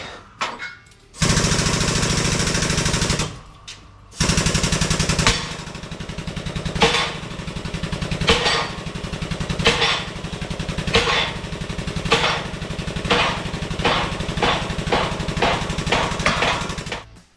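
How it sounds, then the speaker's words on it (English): A powered press forces a part out of a truck's rear suspension. Two loud sustained mechanical roars are followed by a long run of rhythmic hammering pulses as the part is driven out, all close by with no speech. "I'm gonna press to the inside diameter, and that's gonna press this whole thing out"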